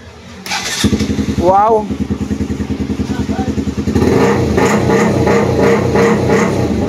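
Kawasaki NS150 motorcycle engine cranking, catching and settling into a loud, steady, close-up running rhythm, with a brief exclamation from a person nearby.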